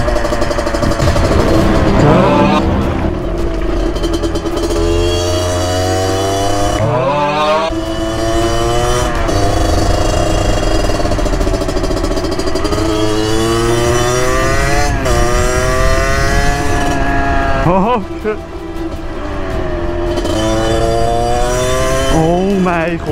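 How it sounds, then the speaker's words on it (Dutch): Several motorcycles pass one after another with rising and falling engine whines, revving up and down close by over loud road and wind noise. "Kom je gewoon meerdere motorrijders tegen."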